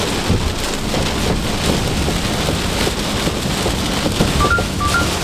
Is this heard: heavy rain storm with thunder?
yes